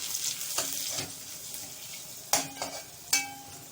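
Garlic hitting a pan and frying in rendered lamb fat for an okra and oxtail tagine, a steady close sizzle broken by a few sharp clinks of stirring.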